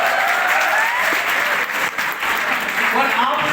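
Dense, continuous applause from a large audience fills a motivational business training event in India, loud and sustained throughout with crowd noise mixed in.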